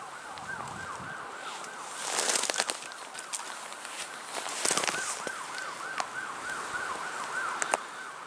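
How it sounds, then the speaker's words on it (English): Distant wailing sirens rise and fall continuously, with wind and occasional bird chirps and louder rustling bursts in between. "those sirens are really going crazy. Almost sounds like it might be a fire."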